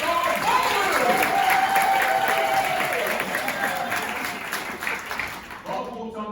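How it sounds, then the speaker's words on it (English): Applause from a crowd at a dog opera show as the dog Bob walks on stage, with steady dense clapping that fills the space and then thins out near the end. "Let's give him a big round of applause."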